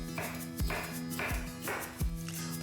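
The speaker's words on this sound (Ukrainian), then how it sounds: "Поки олія розігрівається, ріжемо болгарський перець." A knife chops a bell pepper on a cutting board in a slow, even rhythm, about four distinct thuds with crisp slicing between them, over a faint background hum.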